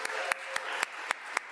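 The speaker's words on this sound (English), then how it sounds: "Can we give them one more round of applause?" Faint applause from a small audience at an arts event, heard as a thin patter with evenly spaced louder claps about four times a second.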